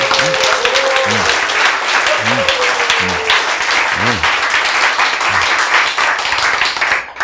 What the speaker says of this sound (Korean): 이제 이때 박수 쳐야 돼요.